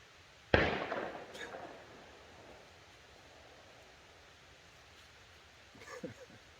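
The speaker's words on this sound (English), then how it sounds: "There's gunfire like every minute." A single sharp gunshot cracks in the distance and echoes away near a logging road at Chilliwack Lake, followed several seconds later by a fainter pop.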